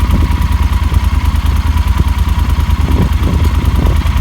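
A 2019 Yamaha Super Tenere ES motorcycle idling in neutral, a loud close steady pulsing thrum with a slight mechanical clatter and no talking.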